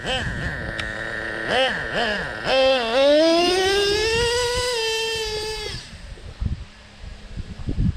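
A Traxxas Revo 3.3 nitro RC car engine revs and then holds a high, buzzing idle with a strong whining tone that steadies before cutting away to softer clatter, heard close and loud.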